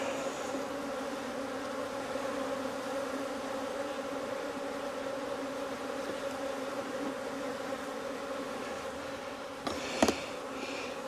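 Honey bees buzz steadily at an open hive during Apivar strip treatment, a close, even drone throughout with a brief knock near the end.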